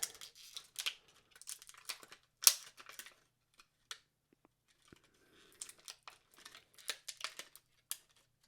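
An action figure is pulled from its card packaging: crinkling plastic blister and tearing cardboard in close, bursty handling, with a brief pause midway before more crackling and rustling.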